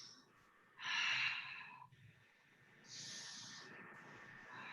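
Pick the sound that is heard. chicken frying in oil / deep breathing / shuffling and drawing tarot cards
deep breathing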